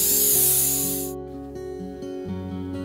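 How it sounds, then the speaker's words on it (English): A loud, close hiss of spray adhesive from an aerosol can onto batting lasts about a second, then cuts off, leaving a low hum. "we're going to spray glue it onto here"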